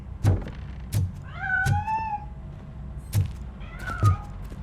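Several cat meows in the video game RoboCop: Rogue City, some short and one drawn-out and wavering, mixed with dull thumps, fairly close and clear.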